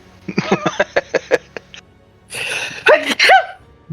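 A single sharp sneeze with a quick inhaled build-up, close and fairly loud, following a run of short clicking taps; people talk nearby just before.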